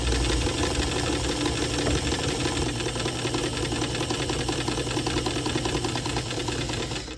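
A sewing machine stitches a t-shirt seam with a steady, loud mechanical whir and fine rattling that runs continuously and close up, with no talking.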